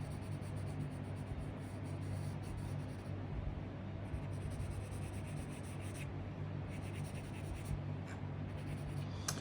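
Pencil drawing light lines on paper for a maxillary central incisor tooth study, a soft continuous scratchy rubbing heard close up in short strokes over a steady low background hum.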